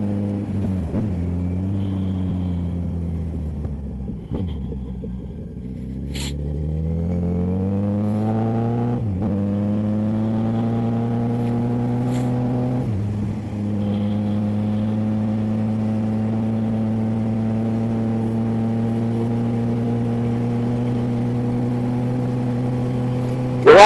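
A motorcycle ridden along a cold road in Campo Grande, its engine droning loud and close, rising in pitch through several gear shifts before settling into a steady cruise.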